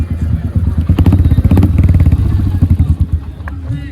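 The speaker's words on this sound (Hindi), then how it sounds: "HK का एग्जॉस्ट है और बहुत ही प्यारा साउंड आ रहा है।" A Royal Enfield Hunter 350 motorcycle with an HK exhaust thumps away nearby in a loud, pulsing idle, its uneven beat rising and falling through a short stretch with faint voices in the background.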